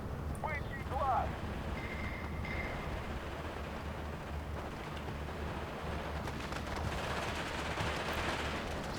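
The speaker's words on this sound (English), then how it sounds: "Taking fire from that machine gun." Machine gun fire crackles in the World War II strategy game Steel Division 2 as rapid, distant bursts amid a rumbling battle soundscape, with voices talking over the action.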